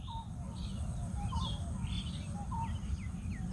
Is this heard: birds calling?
yes